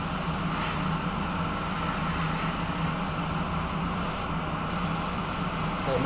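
Steady, continuous broadband hiss of a spray painting a full base coat onto a WMIK model base, holding at an even level for the whole stretch with only a brief dip near the end and no talking.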